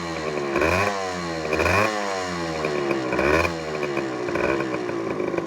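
A Thai Victor 150 motorcycle engine revs repeatedly, rising and falling in pitch with a rough, clattering idle between throttle bursts, close and loud.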